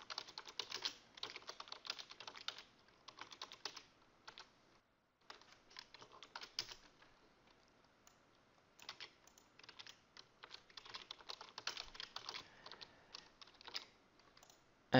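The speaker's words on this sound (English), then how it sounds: "To create a new index on column client ID, simply type in the following SQL code." Steady computer keyboard typing of SQL code, rapid clicking bursts broken by brief pauses, close and clear with no voices.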